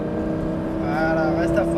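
Lamborghini engine on a racing circuit, held at full throttle with a steady loud drone whose pitch climbs toward the end, continuous and close throughout.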